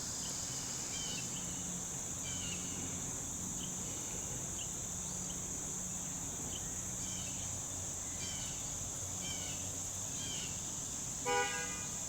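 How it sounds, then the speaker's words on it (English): Steady high-pitched cicada drone fills the whole stretch, a constant outdoor hum with faint chirps and a low rumble from a Champion 2500-watt inverter generator underneath. "A lot of cicada sounds"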